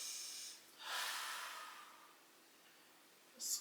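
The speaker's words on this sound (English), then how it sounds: "Deep breath in and out." Slow, deep breathing during an indoor winter yoga stretching session: one long soft inhale-exhale hiss, a pause, then the start of another breath, close and quiet with no talk over it.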